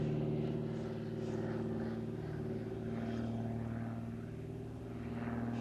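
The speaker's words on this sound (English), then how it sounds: "Last tumbling figure now, 170 knots, pulling up into a double vertical roll" Extra aerobatic plane at an airshow pulling up into a double vertical roll, its propeller engine a steady, fairly distant drone that swells and fades slightly.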